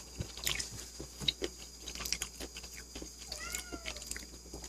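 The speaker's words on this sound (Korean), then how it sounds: "옆에 고양이도 지금 먹고 싶은가 봐요." A cat beside a table where boiled octopus is being eaten meows several times at close range, mixed with quiet chewing and crunching sounds, with no talk.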